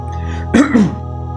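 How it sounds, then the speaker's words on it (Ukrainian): A man gives a single short, rough cough, two quick bursts close to the microphone over a steady hum. "я щось закашлявся"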